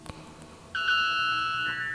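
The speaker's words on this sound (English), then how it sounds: "White bellbird." A white bellbird call: a loud, piercing, metallic tonal blast that starts abruptly after a faint tap and holds steady for over a second, close and alone.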